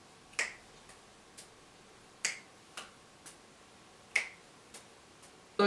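Sharp, close finger snaps made between juggling throws ring out in an irregular pattern, a few loud cracks mixed with softer, fainter snaps, about ten in all over a quiet room.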